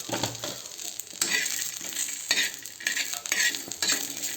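Peanuts roast on a hot griddle with a dry sizzle, punctuated by repeated scraping strokes of a spatula stirring them around.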